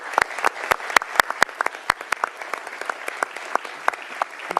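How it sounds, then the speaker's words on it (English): A small audience applauds two witnesses at a live morning news event; scattered, distinct claps ring out at a moderate distance, thinning and irregular over a few seconds with a faint room murmur beneath. "Please give them a round of applause."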